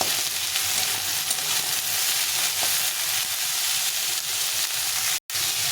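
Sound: vegetables (pointed gourd) frying and being stirred in a pan

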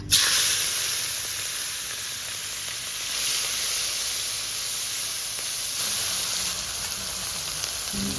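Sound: prawns sizzling in hot oil

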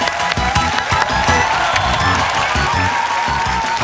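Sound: audience applause

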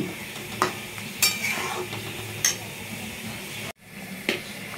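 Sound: stirring ghee in a pan

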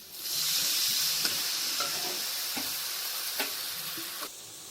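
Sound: water added to frying ginger paste in pan, stirring

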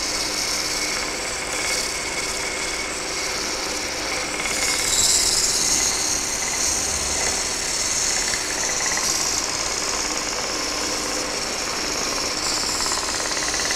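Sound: small power sander sanding wooden frame

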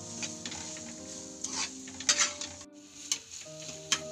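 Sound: stirring Maggi noodles in a pan

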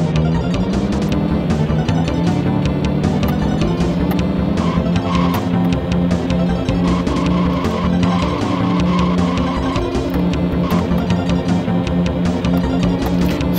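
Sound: racing cars skidding in Top Gear SNES video game

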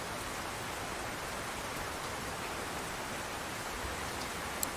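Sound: rain in the video game Rune Factory 4

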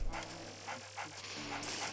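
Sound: dog barking in video game Luigi's Mansion 3DS

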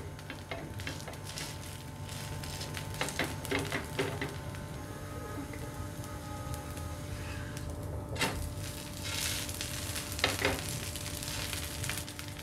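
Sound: rava dosa sizzling on pan over medium flame

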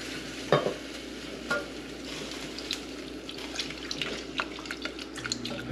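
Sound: whisking milk into a cooking sauce

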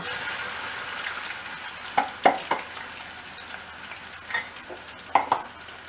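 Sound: garlic frying in oil, stirred

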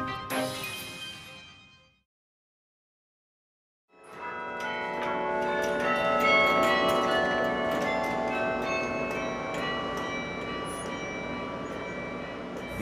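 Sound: tower clock bells chiming the hour, played live

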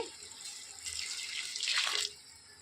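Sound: hot water poured into pot for chicken biryani

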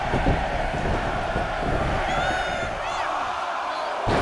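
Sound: video game crowd counting down

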